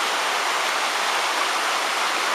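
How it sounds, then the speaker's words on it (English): A waterfall in an old volcanic crater canyon on a bush walk, a steady, dense, roaring rush of falling water heard from nearby without pause. "I'd imagine this is probably the waterfall"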